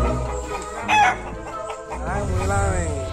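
A rooster crows loudly with hens clucking around it, a farmyard squabble in which chickens gang up on a snake caught swallowing their eggs; the crowing is near and rises over steady background noise.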